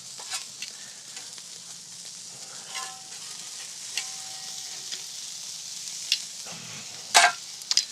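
Sausage, polenta and quail sizzle steadily on an outdoor grill, a continuous crackling hiss with occasional sharper pops and a couple of brief clinks near the end.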